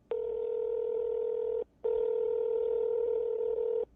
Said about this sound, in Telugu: ఎస్ఐకి ఫోన్ చేశాడు